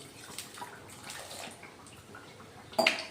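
Water is poured onto 500 grams of sugar in a pan to make syrup, giving a faint, steady, noisy trickle that ends in a brief louder splash and clink.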